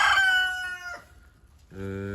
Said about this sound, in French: Ensuite ici il y a deux poules rouges.